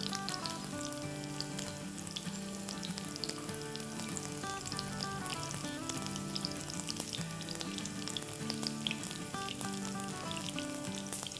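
Unniyappam batter fries in hot oil in an appam pan, with a dense, continuous sizzle and fine popping bubbles that stay even and prominent throughout.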